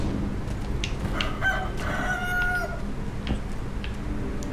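A rooster in the video game Sekiro crows once at moderate distance, a drawn-out cock-a-doodle-doo in the middle of the clip over low ambient game noise, with a few faint bird-like chirps around it.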